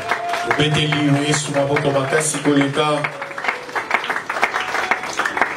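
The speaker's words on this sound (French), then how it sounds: "on acclame très fort pour la gloire du Seigneur" A church congregation applauds and cheers loudly as Pastor Jean-Jacques approaches, sustained crowd clapping mixed with raised voices and music over several seconds.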